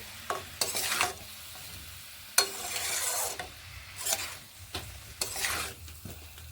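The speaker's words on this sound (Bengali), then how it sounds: "বেগুন ও বড়িগুলোকে বেগুন ও বড়ি দিয়ে নেড়ে নিচ্ছি" Eggplant pieces and lentil dumplings stirred in a pan, several distinct scraping sweeps with a soft sizzle between them, close and fairly quiet, with no speech.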